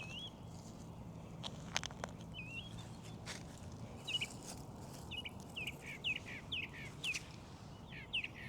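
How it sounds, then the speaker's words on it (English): A bird sings from a rooftop peak in a spring garden, repeating short whistled phrases at a steady pace, fairly distant and faint over low outdoor background noise with occasional scraping sounds. "There's a bird up on my rooftop right at the peak, and he is just singing me a song right now."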